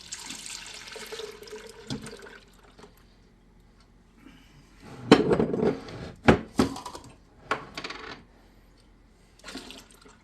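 Milk and cream are poured from jars into a gallon jar, giving liquid glugging and splashing bursts that begin near the middle and stop and start, with quieter handling clinks in between.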